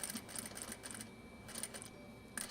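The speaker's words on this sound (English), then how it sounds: "we're going to do lots of back stitching" A sewing machine back stitches in a home sewing room in short, quiet bursts of rapid mechanical ticking, stopping and starting between runs, with no talk.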